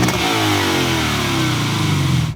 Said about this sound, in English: The engine has gobs of power, especially as you rev it out, and it makes a fantastic noise as it does so.